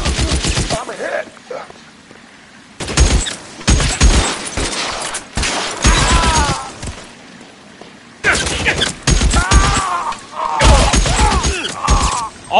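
Gunfire in the video game L.A. Noire comes in loud, dense bursts of rapid shots separated by short quiet gaps, with a few thuds and shattering impacts.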